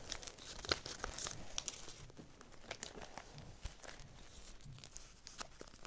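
Paper surprise packets being unwrapped up close, with soft crinkling and tearing rustles in quick irregular bursts, quiet and without talk.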